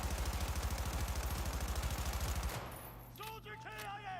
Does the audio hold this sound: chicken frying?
no